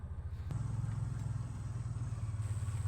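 A vehicle on a rural property shifts gears, with a steady low engine drone carrying through and a brief mechanical clunk at the change, all close and without talk.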